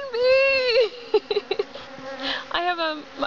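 Honey bees buzz close by during an evening hive inspection, a steady wavering hum with sliding harmonic tones and a few short sharp bursts, loud and alone without talk.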